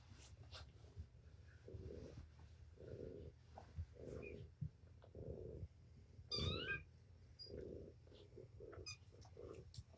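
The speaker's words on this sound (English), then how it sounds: "over there meowing at mama" A kitten gives a run of short, soft meows at a steady pace, close by, with one brighter squeaky cry partway through.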